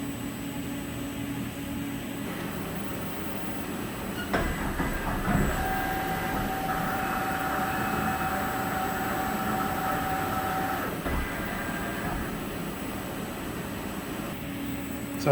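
A CNC machine runs its program after the Z axis has been shifted one inch down, giving a steady mechanical hum with a sustained whine through the middle of the run and a few soft clicks.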